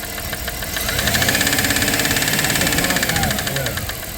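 A 1997 Dodge Caravan LE engine with a worn lifter idles nearby, a steady mid-pitched rumble carrying a rapid rhythmic ticking that swells for a few seconds and then eases.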